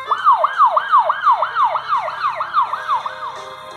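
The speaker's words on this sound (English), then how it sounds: "Police car." A loud police car siren wails in quick, repeating rising-and-falling sweeps, steady and close, with no other sounds.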